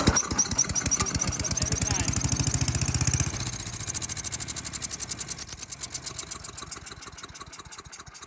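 A Tecumseh engine on a Troy-Bilt wood chipper, recently sprayed with carb cleaner and half-choked, fires and runs in rapid rhythmic chugs, then sputters into slower, uneven pulses that fade as it stalls.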